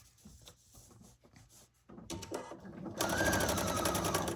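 A sewing machine starts up stitching quilt fabric, faint handling clicks giving way to a rising, steady mechanical whir that grows louder near the end.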